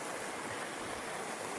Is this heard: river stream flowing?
yes